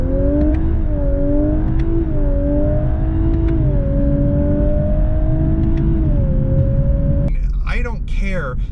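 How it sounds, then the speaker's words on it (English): A 2019 Lexus LC500h hybrid V8 sings out in a loud, sustained engine drone whose pitch swells and dips a few times before a voice starts talking at the end. "All I can say is that engine just screams."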